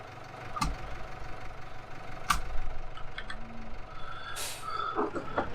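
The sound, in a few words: tractor engine idling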